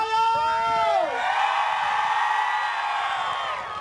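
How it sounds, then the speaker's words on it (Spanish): A crowd at a jaripeo rodeo in Burgos, Tamaulipas, cheers and whoops loudly for a rider in a short burst of shouts and high calls. "¡Y la porra de Toyo!"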